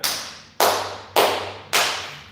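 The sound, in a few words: hand clapping on the beat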